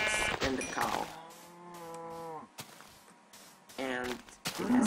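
A cow lowing in the Minecraft video game: one drawn-out, harmonic moo with a falling end, fairly clear, with voices and game noises before and after it.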